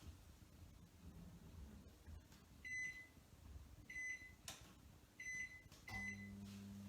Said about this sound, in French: je programme mon four